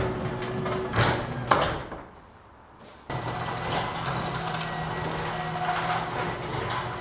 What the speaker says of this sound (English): it seems like the majority of the noise comes from the door itself